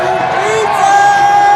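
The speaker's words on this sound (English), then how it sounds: "it is incredibly loud in here. The crowd on the far side of the field treating this almost like a hockey match" Loud stadium crowd roaring steadily throughout a Con10ent versus Colorado match, with a broad wash of cheering and whooping that swells slightly toward the end, no clear talk over it.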